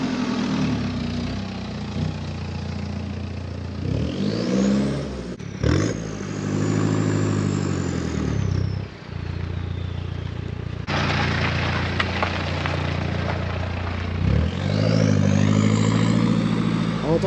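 A car engine with its exhaust filter removed and a stage 3 tune revs repeatedly, loud blips rising and falling with rough idle between them, and no talking.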